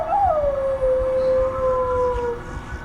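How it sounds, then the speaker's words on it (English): A dog in a video game lets out one long, loud howl that slides down and holds, with a faint siren wail in the distance behind it. "When you hear sirens in the distance, you'll begin to howl."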